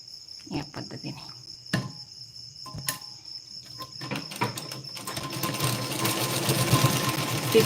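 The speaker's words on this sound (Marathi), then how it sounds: "आता हे आपल्याला आतल्या बाजूने याला कवर शिलाई देऊन घ्यायची" Sewing machine cover-stitching the inner seam of a blouse: a few short bursts of stitching first, then a steady, close, continuous mechanical whir that builds and runs to the end, with no talk.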